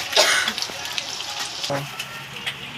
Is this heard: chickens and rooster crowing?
no